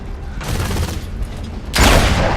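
Rifle gunfire in the video game Gears of War 2: a couple of loud, sharp blasts, the second louder and closer, with brief rumbling in between.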